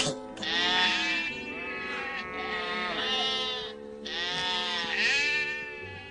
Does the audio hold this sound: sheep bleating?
yes